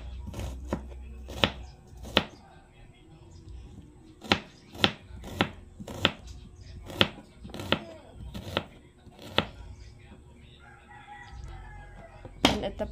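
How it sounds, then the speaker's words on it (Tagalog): Onions being sliced on a board with a knife, giving a run of about a dozen close, sharp chops at an uneven but steady pace, with a rooster crowing and hens clucking in the background. "Hiwain na rin po ni mama yung sibuyas."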